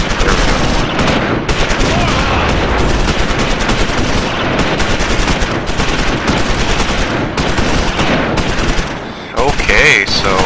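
Loud, sustained machine gun fire from the Close Combat 5 wargame, long rapid bursts broken by short pauses, with scattered shots and battle noise around them.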